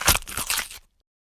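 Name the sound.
leather crunch sound effect for character armor movement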